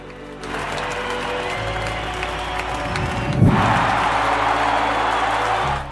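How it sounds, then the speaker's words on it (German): Spectators rise for a standing ovation at a sports event, a dense, loud wall of applause and cheering from a large crowd that swells midway and holds steady to the end. "Millionen von Zuschauern erinnerten sich an ihn und spendeten ihm eine Standing Ovation."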